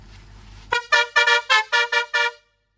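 A Basuri musical vehicle horn blares a quick melodic run of seven short, loud honks in an uneven tune, heard alone with nothing around it.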